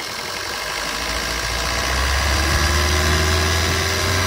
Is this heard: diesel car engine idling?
yes